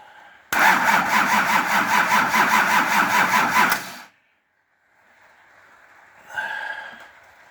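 A Nissan LD28 diesel engine that had not run in years cranks loudly and rhythmically for about three and a half seconds, then stops, leaving near silence before a brief, softer burst of noise.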